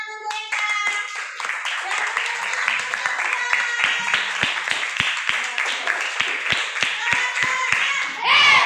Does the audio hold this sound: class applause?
yes